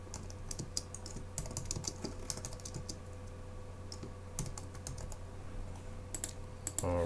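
Rapid, irregular clicks of fingers typing on a computer keyboard while entering spreadsheet data in Microsoft Excel, close and fairly quiet, with short pauses between bursts of keystrokes and no voices.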